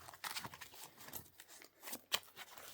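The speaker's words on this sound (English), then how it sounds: "So let's do just a quick little shuffle here." Yu-Gi-Oh trading cards are shuffled by hand in a quiet room, a quick series of soft riffling, flicking and slapping sounds in uneven bursts, close and fairly faint, with no talking.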